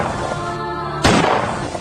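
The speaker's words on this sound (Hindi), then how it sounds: "पीछे से अचानक 2 गोली चलने की आवाज सुनी।" Two gunshots as a movie sound effect, a sharp loud crack that stands out over a dramatic music bed and then rings away.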